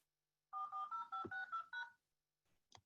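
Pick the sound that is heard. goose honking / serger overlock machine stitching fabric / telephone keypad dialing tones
telephone keypad dialing tones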